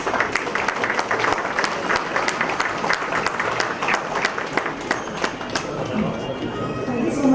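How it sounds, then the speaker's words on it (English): Audience at a tech startup inauguration event claps in a loud, dense burst of applause that continues steadily throughout, close and full, with scattered sharper claps and a murmur of voices underneath. "A big round of applause."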